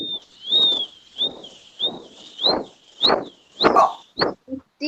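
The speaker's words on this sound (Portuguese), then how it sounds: "Tem um passarinho dentro da sala" A small bird chirps inside a school classroom, giving a string of short, bright, repeated chirps at a steady pace, fairly close, with soft room noise underneath.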